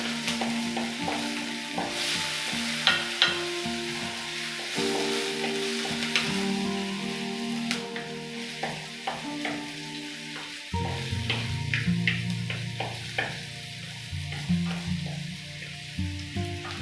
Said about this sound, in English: So I'm waiting for the onions to cook.